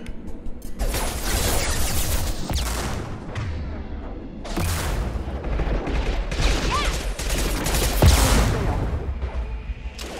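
Submachine gun fire in the video game Mass Effect 2 Legendary Edition rattles in dense bursts amid explosions and clanking mechanisms, loud and continuous across a hectic firefight.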